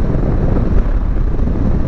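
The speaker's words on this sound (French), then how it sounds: "on se prend quand même pas mal de vent dans les épaules" Heavy wind buffets the rider of a 2021 Yamaha Tracer 7 in A2 form, a constant loud low roar with rumbling turbulence and no talking.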